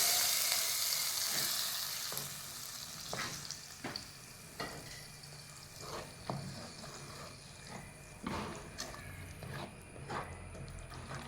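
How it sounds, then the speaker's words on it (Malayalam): A tempering of crushed chili in hot oil is poured into a seedless lemon curry and sizzles loudly at first, then settles into quieter bubbling broken by the clacks of stirring. "ഇനി ഇത് കറിയിലേക്ക് ഒഴിച്ച് കൊടുക്കാം."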